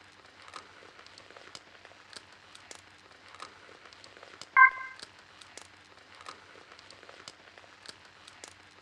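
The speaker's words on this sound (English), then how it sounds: "I awoke to the pattering of raindrops." Rain patters steadily in the video game Fragile Dreams: Farewell Ruins of the Moon, with light, scattered drop ticks throughout. A brief tonal chime sounds once near the middle over the soft rainfall.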